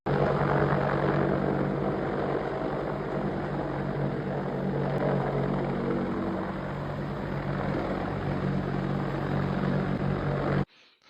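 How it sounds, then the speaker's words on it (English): A US Army Black Hawk helicopter hovers just outside an apartment, its steady, loud rotor thrum and engine roar running unbroken for about ten seconds before cutting off abruptly. "a US Army Black Hawk helicopter hovering outside his apartment"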